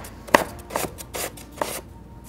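Knife chopping through frozen layered ice cream for a dessert, three sharp separate cuts spaced roughly half a second apart, close by with no talking.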